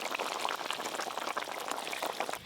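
Fish curry with amlesh paste boiling in a pan, a continuous close bubbling and popping of simmering liquid at steady moderate loudness.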